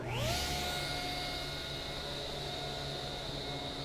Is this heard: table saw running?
yes